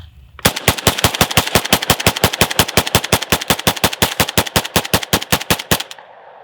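A PSA AK103 rifle fires a long, rapid string of about thirty evenly spaced, loud, close shots after being drop-tested, ending abruptly with the magazine emptied.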